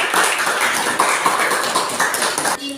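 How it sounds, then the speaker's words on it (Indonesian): Students in a vocational school classroom clap their hands together, a close, brisk run of sharp claps with distinct accents, then stopping abruptly near the end. "Tepuk tangan buat kalian."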